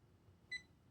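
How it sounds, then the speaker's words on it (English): An XBloom Studio pour-over coffee maker gives a single short, clean electronic beep as a cup is lifted off its built-in scale, in an otherwise very quiet room. "it beeps knowing I took the coffee off the scale"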